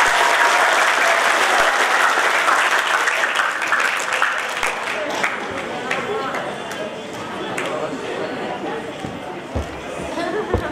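A crowd claps at an Islamic boarding school graduation ceremony in Makassar, loud sustained applause that slowly thins and fades, with scattered chatter and a voice beginning to speak underneath.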